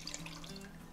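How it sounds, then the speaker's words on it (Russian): Water poured from a tap into tomato paste while cooking, a brief gentle running trickle with light splashing, close and soft with no talking. "Добавляю воду"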